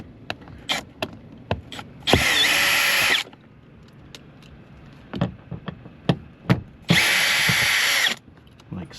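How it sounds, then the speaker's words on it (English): A power drill removes screws from a 2025 Toyota Grand Highlander door panel, whirring in two sustained bursts of about a second each, separated and surrounded by sharp knocks and clacks of handling. "So take our drill and yank these guys out."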